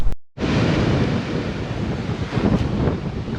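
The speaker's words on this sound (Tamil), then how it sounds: "வாவ், கடல் தான்." Sea waves roll onto the shore at Kanyakumari as a continuous roar, heavily mixed with gusting wind buffeting the microphone, after a brief silent start.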